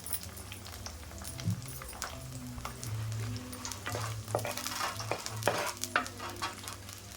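Onions and fenugreek leaves fry in a pan for mutton kheema curry, a steady close sizzle with scattered crackles and occasional stirring scrapes throughout.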